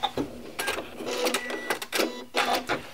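A sewing machine running a decorative stitch pattern on fabric, its motor whirring in bursts with clicking, rhythmic needle strokes that pause and restart over a few seconds, close and fairly loud.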